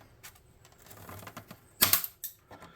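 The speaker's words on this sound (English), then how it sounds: "Then I'm going to come snip those." Popsicle sticks for a tabletop-game saloon model are cut with snips: faint handling rustle, then two sharp, crisp clicks close to the mic, one loud and one slightly softer, less than half a second apart.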